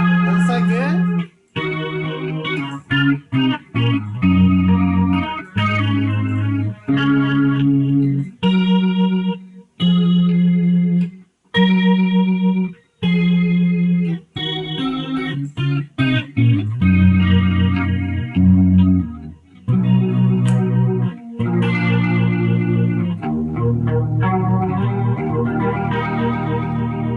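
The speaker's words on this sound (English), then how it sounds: "So for the Leslie tone, it sounds like a rotary" Electric guitar played in chords and short riffs through a Leslie rotary-speaker effect from a BOSS pedal, swirling, choppy phrases with brief gaps, fairly loud and no talking.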